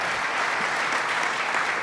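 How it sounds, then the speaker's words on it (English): Steady applause from the audience at an economic summit, a dense continuous patter of clapping filling the room with no talk over it. "Give them a round of applause"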